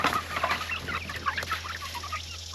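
Several farm chickens cluck and chatter together at morning feeding time in a chicken tractor, with busy overlapping calls at close range over a steady low hum.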